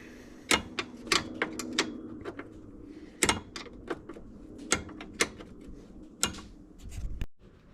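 10mm bolts come off a car hood latch under a wrench, giving close, irregular metallic clicks and ratcheting clacks spaced by short pauses, with a heavier clunk near the end.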